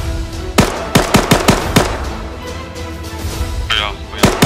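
Gunfire in the military video game ARMA 3: a series of sharp, loud rifle shots in irregular bursts, some closely spaced, over a background of voices talking.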